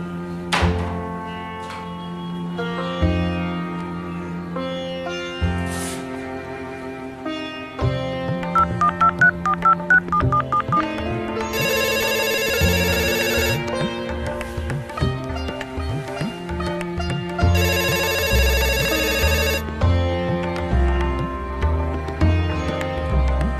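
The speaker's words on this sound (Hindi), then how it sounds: "मैं अभी अपने बेटे को फोन करती हूँ" Short electronic beeps of keypad tones, then loud repeating ring tones in two long bursts, with thumps and background music throughout.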